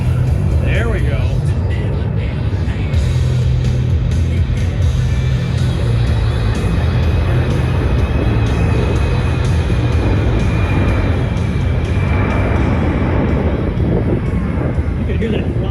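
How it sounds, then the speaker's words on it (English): An aircraft engine powers up at the Pacific Airshow on the Gold Coast, a loud, continuous roar that fills the whole stretch and holds steady with slight rises in pitch. "You can hear that throttle just right on the edge."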